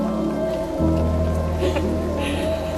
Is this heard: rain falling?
yes